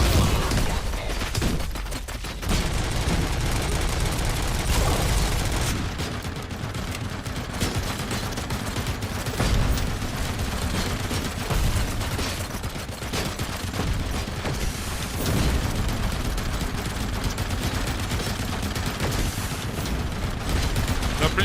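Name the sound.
gunfire in the video game RoboCop: Rogue City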